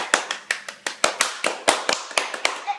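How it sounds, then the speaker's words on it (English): Children at a story time clap their hands in a quick, slightly uneven run of about a dozen sharp claps, close and alone without any talking. "Can we clap?"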